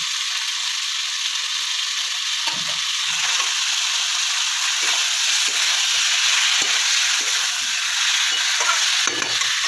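Masala is sautéed in a pan, giving a steady bright sizzle with frequent scraping stir strokes throughout, close and fairly loud, with no talking.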